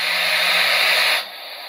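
Air hisses loudly and steadily as it is bled from newly installed household plumbing through a slightly opened valve, then cuts abruptly to a quieter hiss near the end, with no talking.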